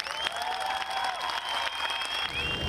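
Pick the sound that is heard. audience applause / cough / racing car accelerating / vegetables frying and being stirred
audience applause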